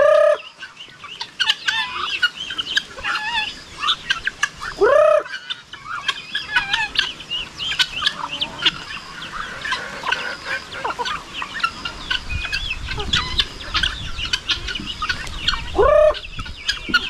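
Chickens cluck and murmur close by in a farmyard shared with guinea fowl, with soft continuous clucking, scattered calls and two louder rising squawks near the start and end.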